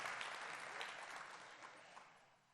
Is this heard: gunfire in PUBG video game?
no